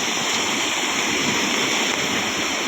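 Loud, continuous roar of a flooded Konkan river churning close by, with no voices.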